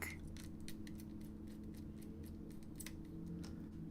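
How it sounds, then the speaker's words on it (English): Small metallic clicks and light scraping from a screwdriver backing out the heatsink screws on a Samsung NP300E5EV laptop, a quick irregular series of close taps over a steady low hum. "So I'm just gradually gonna unscrew the heatsink."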